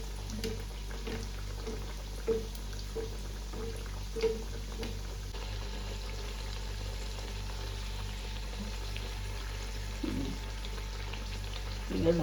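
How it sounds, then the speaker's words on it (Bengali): Coconut kachori deep frying in hot oil bubbles and crackles steadily and softly, with faint intermittent clinks throughout. "এবার ভাজা হচ্ছে, গোল্ডেন"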